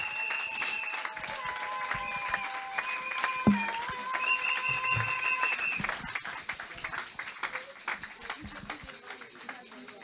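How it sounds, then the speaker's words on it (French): A church congregation at a French thanksgiving service applauds and cheers, a continuous wash of clapping with sustained voices and tones over it, fading gradually over about ten seconds. "On peut les encourager par des acclamations."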